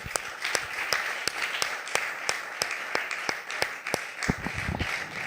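A church congregation claps in welcome, crisp individual claps standing out over a steady bed of applause from many people, moderately loud and continuing evenly with a brief flurry near the end.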